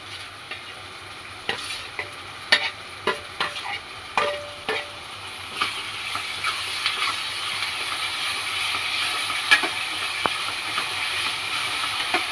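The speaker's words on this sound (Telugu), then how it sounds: "టమాటాలు వేస్తున్నానండి." Tomatoes go into a frying gongura prawn curry with a few sharp spoon-and-pan clatters, then a steady sizzle that grows fuller and keeps going close by. No talking.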